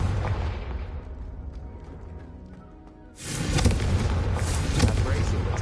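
A Confringo blasting spell erupts in a Harry Potter video game: after a fading rumble and a brief lull, a sudden loud, broad explosive burst hits and keeps crackling and booming.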